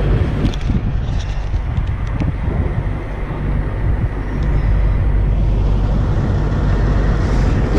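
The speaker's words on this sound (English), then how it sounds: "Absolutely windy." Strong wind blows outdoors, a loud, continuous low rumble and buffeting across the microphone that briefly eases and then surges back, with no speech.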